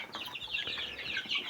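Young chicks chirping close by in a rapid, continuous cluster of high, bright peeps, with no voices over them.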